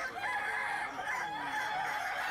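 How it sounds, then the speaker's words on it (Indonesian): A kukuak balengge rooster, a breed native to West Sumatra, crows at a crowing contest in Padang. A long, loud, continuous crow fills the whole stretch, with no talk over it. "Perlombaan adu ketangkasan kokok ayam ini digelar dalam rangka memeriahkan hari jadi yang ke-355 tahun Kota Padang."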